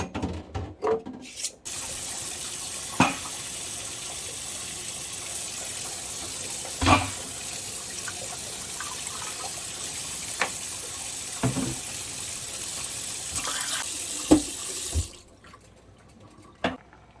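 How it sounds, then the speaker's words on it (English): Tap water running steadily into a sink with occasional clinks and knocks of glass canning jars and lids being washed, ending abruptly as the tap shuts off. "I'm going to wash my jars and lids."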